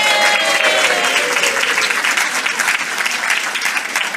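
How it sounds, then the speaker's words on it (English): Steady, dense applause from a crowd, loud and continuous throughout with no pauses. "Can we all give them a round of applause?"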